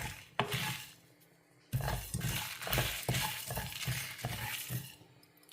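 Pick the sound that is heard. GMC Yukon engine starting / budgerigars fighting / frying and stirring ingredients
frying and stirring ingredients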